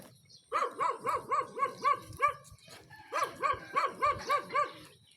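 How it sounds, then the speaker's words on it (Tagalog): A dog barks in two rapid bursts of repeated, yappy barks, fairly close, heard during an early-morning walk along a flood-control embankment, with no talking. "Pre, may aso pre sa likod."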